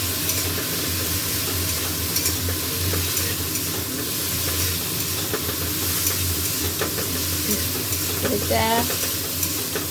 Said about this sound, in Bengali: কুমড়োটাও ভালো করে ভেজে নেব।